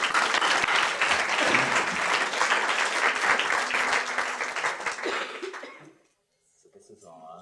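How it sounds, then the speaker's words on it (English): An audience at a community beautification summit applauds loudly, a dense wash of clapping that fades out over about six seconds, followed by brief silence and then a voice starting to speak. "give them a big round of applause"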